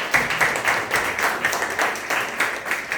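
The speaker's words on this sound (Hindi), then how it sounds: "आइए प्रभु का धन्यवाद हम जोरदार तालियों से करें।" Congregation in a Hindi-language church service claps in thanks, a steady patter of many hands with rhythmic bursts, moderately loud and close, with no talk over it.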